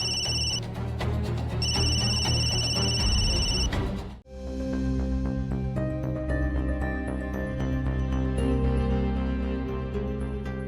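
A household telephone rings in a drama scene, its ringtone repeating loudly and continuously, then cutting off for a moment before the ringing resumes with a fuller tune.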